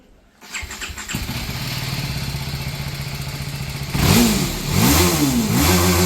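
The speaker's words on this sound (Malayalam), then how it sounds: "ഇതിന് എക്സ്റ്റോസ് കൊണ്ട് നമുക്കൊന്ന് കേട്ടോ നോക്കാം." A modified TVS Apache RR310 motorcycle with an aftermarket exhaust cranks and starts, settles into a steady close idle, then gets revved in several sharp, loud bursts.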